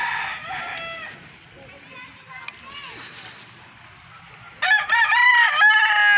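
A rooster crows twice in a simple backyard chicken coop on a small creek farm, the first call loud and close at the start, a second clear crow near the end, with faint farmyard background and brief talk in between.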